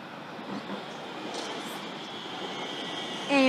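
Siemens suburban electric train arriving at Ascot Vale station in Melbourne, a soft steady rumble and hum from the approaching train with a faint whine, with a brief sharp squeal near the end.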